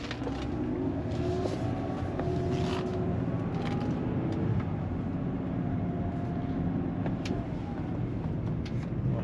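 BMW E90 328i on a drive, with a steady interior rumble of engine and road noise, even and continuous throughout with no talking.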